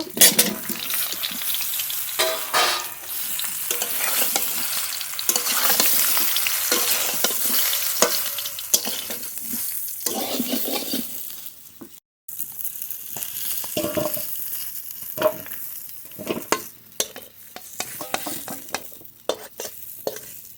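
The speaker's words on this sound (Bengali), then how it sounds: "আচার তৈরি করার আগে আমগুলো হালকা করে একটু তেলে ভেজে নেব" Himsagar mango pieces fry lightly in a little mustard oil in a pan for pickle, giving a continuous close sizzle broken by scraping stirs, with a brief pause partway through and no speech.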